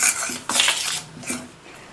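A spoon scrapes and clinks against a metal bowl while tempered spices are mixed into kolukattai flour, with a few short stirring strokes close by.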